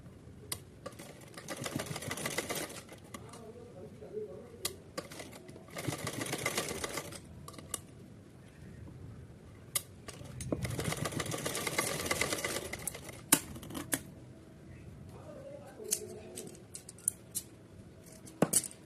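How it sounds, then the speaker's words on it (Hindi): A sewing machine stitches a fabric cap for a Kanha ji outfit in short bursts of fast whirring needle rattle separated by quiet pauses and small clicks and handling noises, heard close up and fairly soft. "तो चलिए इसको सिलते हैं।"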